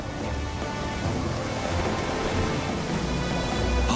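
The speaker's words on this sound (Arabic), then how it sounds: "هطلت أمطار غزيرة واشتدت الرياح" Heavy rain and a strong wind storm make a dense, continuous broadband wash with deep rumbling underneath, steady and loud throughout, with no voices.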